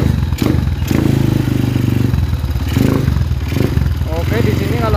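A Honda CB motorcycle engine with a rough-running fault revs close by, a loud, uneven mechanical clatter rising and falling throughout, while someone talks over it.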